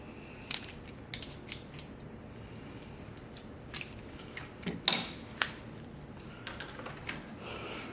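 Electrical wire, 14-2 and 14-3 cable, being stripped for a single-pole switch and split receptacle: scattered sharp clicks, snips and scraping bursts at close range over a quiet room background, with no talking.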